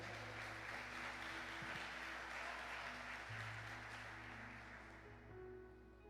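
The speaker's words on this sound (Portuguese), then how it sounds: "Dá uma salva de palmas, Jesus." Congregation in a church clapping together: a continuous wash of applause, faint and sustained for several seconds, fading slightly toward the end with no speech.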